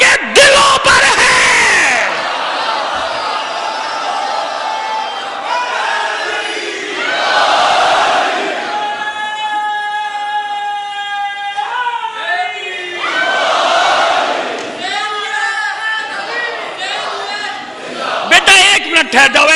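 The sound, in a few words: crowd shouting scattered slogans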